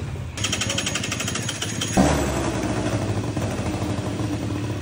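A Suzuki Verde two-stroke motorcycle engine running rough with a faulty, overflowing carburetor, a loud close rattling buzz that shifts pitch partway through as the revs change.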